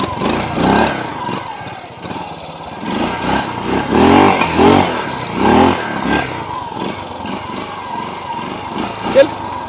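A Honda motorcycle engine revs in short bursts of throttle, rising and falling close by, with people talking over it.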